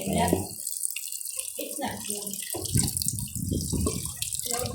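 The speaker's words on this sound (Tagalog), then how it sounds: "Lagyan natin guys ng konting tubig" Water poured from a tap into a cooking pot of pork pata for humba, a splashing, running flow broken by short pauses, with people talking over it.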